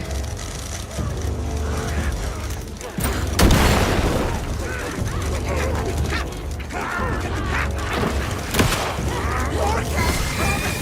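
A flash grenade goes off in Alan Wake 2's Lake House DLC: a sharp broadband burst near the middle and another later, over a constant bed of mechanical game ambience, clicks and rumble.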